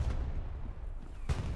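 Grenade explosions in Hell Let Loose, a World War II shooter, with a deep booming blast at the start and another sharp burst near the end over low battlefield rumble.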